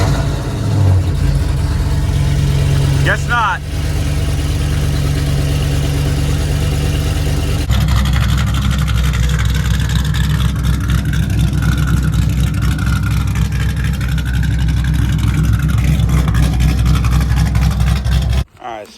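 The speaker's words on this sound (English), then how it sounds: "But let's get this cold start and hopefully we don't set off any alarms." A cammed Ford Mustang GT fires up from cold with a loud rev, then settles into a choppy, lopey idle that rumbles close and heavy; someone speaks briefly over the engine.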